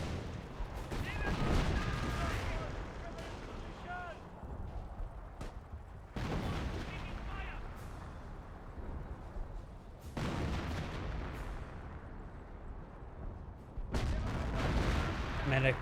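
Artillery booms repeatedly in a Company of Heroes 1 match between Wehrmacht and British forces, heavy blasts recurring every few seconds amid rumbling battle noise, with a commentator talking over the action.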